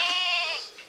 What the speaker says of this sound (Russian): Ягненок.